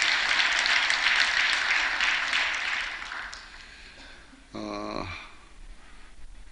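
Congregation applause in a Korean church service for the praise team and Shalom choir. Dense clapping starts strong and fades over a few seconds, then a short vocal or musical sound rises briefly before quieter room noise.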